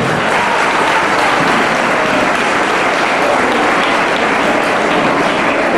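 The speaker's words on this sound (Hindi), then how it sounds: "कृपया उनका ताली से स्वागत करें।" An audience applauds a guest at a Khudiram Bose martyr day event organised by a student group, with steady, dense clapping from a crowd that stays loud and unbroken throughout.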